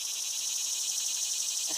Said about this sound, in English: You hear the bugs are starting up, the cicadas.